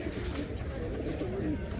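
Pigeons coo softly nearby at an animal market in Lublin, low rolling calls repeating amid a murmuring background with faint voices.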